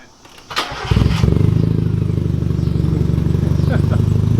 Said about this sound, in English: So Money, go ahead and start up the car.